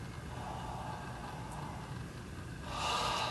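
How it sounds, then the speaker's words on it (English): Deep breathing during a breathwork exercise: a slow, close, soft inhalation, rising into a louder breathy exhale at the end, with no talking. "Take some deep breaths in."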